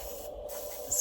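Color Wow Money heat protectant misted onto hair before a blow dry, heard as a short, close aerosol hiss that ends with a louder final burst.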